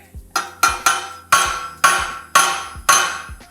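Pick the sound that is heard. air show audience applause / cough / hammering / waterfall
hammering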